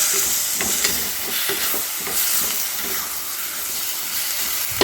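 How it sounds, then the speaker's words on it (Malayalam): Tomatoes sizzle in a hot pan of oil with chili and turmeric powders for a tomato curry, a steady close frying hiss with soft stirring scrapes throughout and no talk. "ഇനി ഇതിലേക്ക് തക്കാളി ചേർത്ത് വെക്കാം തക്കാളി നന്നായിട്ട് വഴറ്റുക"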